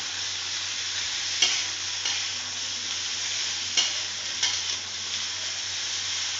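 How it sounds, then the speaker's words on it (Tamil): Vegetables sautéing lightly in a pan for masala vegetable rice give a steady, moderate sizzle, broken by a few sharp scrapes and knocks of a stirring spoon. No one speaks. "அதனால தான் வந்து நம்ம லேசாக தான் வதக்க போகிறோம்."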